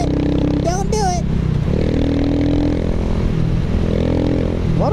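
A Buell Blast motorcycle being ridden, a loud continuous single-cylinder engine drone close by with shifting pitch, overlaid by wind rush and a rider talking.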